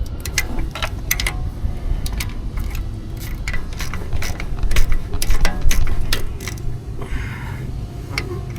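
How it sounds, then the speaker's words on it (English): Rapid clicking of a stubby little ratchet working the starter bolts on a 2005 Ford F250, a steady run of close, sharp ticks with short pauses between strokes, no talking. "the stubbiest little ratchet that we have"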